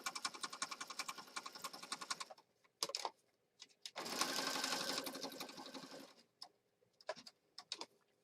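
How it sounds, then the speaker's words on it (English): A sewing machine stitches through layered mixed-media material in rapid bursts, running steadily, pausing, then starting again in shorter spurts, close and fairly quiet with no talking. "Don't be afraid to use your sewing machine."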